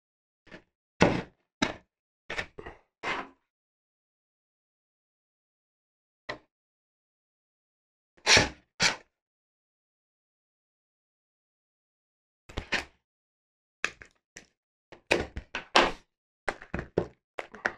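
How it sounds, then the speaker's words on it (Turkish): A RODE Wireless GO microphone box is opened, with scattered soft thunks, taps and cardboard handling noises separated by silent pauses, close by and fairly quiet. "Şu an buna unboxing, yani kutu açma yapacağız."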